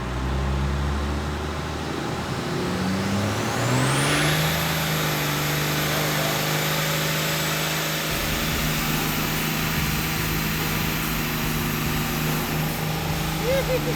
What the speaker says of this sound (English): Let's smoke some tires.